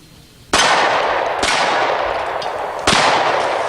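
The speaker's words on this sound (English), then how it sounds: "So let's take a shot or two with our Browning high power" Three sharp, loud pistol shots from a Browning Hi Power 9mm are fired at uneven intervals, each crack followed by a long ringing decay.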